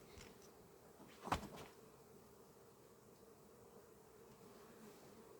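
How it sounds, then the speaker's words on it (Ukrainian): Faint bee buzzing drones steadily in a quiet outdoor setting, with one brief louder knock early on. "Ну бджола десь літає тут."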